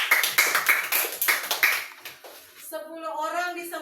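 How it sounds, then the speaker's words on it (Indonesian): Classroom applause from a Christian religious education lesson: a quick burst of hand clapping for about two seconds, moderately loud, followed by a teacher speaking. "Iya, tepuk tangan."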